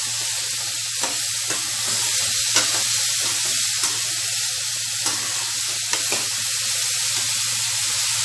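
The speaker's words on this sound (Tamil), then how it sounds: "காலிஃப்ளவர் நல்லா வதங்கணும்." Cauliflower frying in a pan for poriyal gives a steady, close hiss of sizzling with light stirring clicks scattered throughout, and no voices.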